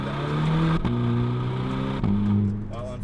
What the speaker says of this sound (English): So to get the loudest DSG farts, what you want to do is shift right around